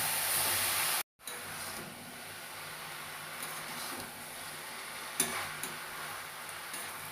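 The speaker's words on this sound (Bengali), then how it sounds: "এবার আমি মোচাটা দিয়ে দিলাম, মোচা দিয়ে আবার সুন্দর করে কষা করতে হবে।" Chopped banana flower sautéed in a pan for a Bengali mochar ghonto with chickpeas and lentil dumplings, a soft continuous sizzle with faint scraping stirs, a brief drop out near the start and an occasional sharper clink.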